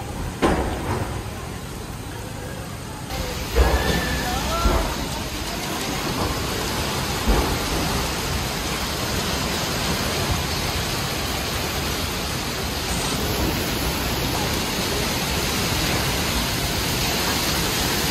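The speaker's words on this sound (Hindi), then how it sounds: "इतनी तेज़ बारिश, हमारे विंडोज़ पे आवाज़ आ रही थी जैसे कोई पत्थर मार रहा हो" Heavy storm rain pours at night and hits the windows of a university hostel as a constant loud hiss. A low rumble of distant thunder comes early on, and no voices are heard.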